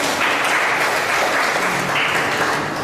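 A sustained round of applause from the Ghanaian community assembly in Tripoli, Libya, greets newly introduced executives, with many hands clapping loudly and continuously throughout, with no pause.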